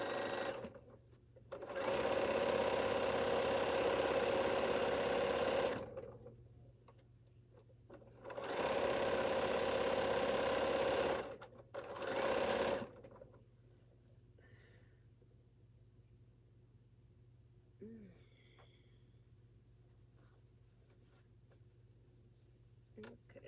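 A sewing machine stitching a quilt runs in three loud, steady bursts of rapid whirring, separated by short pauses, before falling quiet with only faint handling noises and a low room hum.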